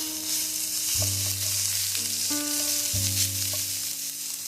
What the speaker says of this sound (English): add in your minced garlic. Let that saute for 1 minute.